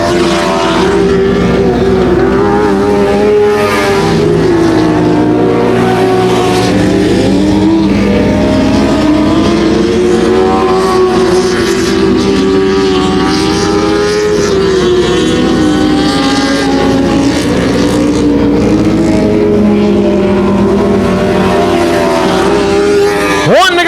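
Dirt track race cars roar around a track during a night of racing, their engines loud and continuous with rising and falling pitch as they lap, while an announcer talks over the noise.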